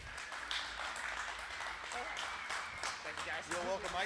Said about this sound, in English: Big round of applause for Johnny.